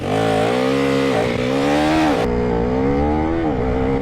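A KTM Duke 390 motorcycle is ridden hard. Its engine revs loudly and up close, rising and dropping in pitch through gear changes over four seconds, with no talking.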